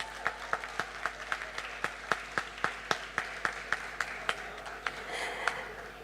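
At a North East Games closing ceremony in Nagaland, an audience claps in a steady rhythmic beat, sharp evenly spaced claps that loosen into a brief scattered patter near the end.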